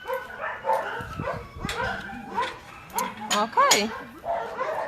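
Dog at an animal shelter barking in short yips and letting out wavering whimpers and whines close by, in uneven bursts mixed with a person talking.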